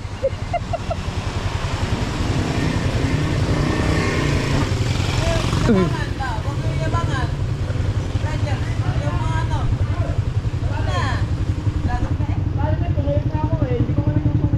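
A motorcycle engine drones loud and steady with a rhythmic low throb, close by, while several people talk and exclaim over it throughout.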